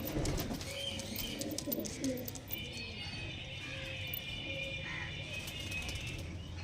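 Pigeons of a fancy breed offered for sale coo faintly in a loft, a low steady murmur spread across the clip beneath general background noise and some chirping.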